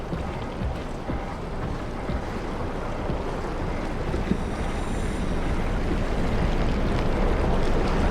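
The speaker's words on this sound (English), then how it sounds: "Windy as hell down here." Wind roars steadily through a deep underwater area in the video game SOMA, a dense, unbroken rush that swells slightly toward the end, with no voices over it.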